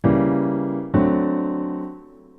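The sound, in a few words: two chords played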